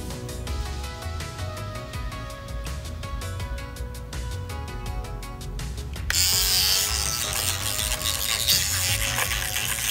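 An electric toothbrush scrubs a water meter with a steady buzzing, rasping drone. The sound grows louder and harsher partway through as the bristles press against the surface.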